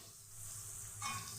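Large-cut onions fry in a pan of hot oil for masala chicken kosa, a steady close hiss and sizzle that swells slightly toward the end.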